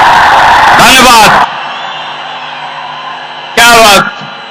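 Live audience in a large event hall bursts into loud cheering and applause in two strong surges, with quieter crowd murmur between them.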